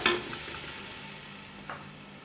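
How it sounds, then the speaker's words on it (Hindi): Raw chicken dropped into a hot, flame-heated cooking pot for Punjabi yakhni pulao, giving a brief clatter and soft sizzle at the start, then a quiet simmering hiss with a second small stir or clink near the end. "अब इसमें मैं चिकन ऐड कर रही हूँ।"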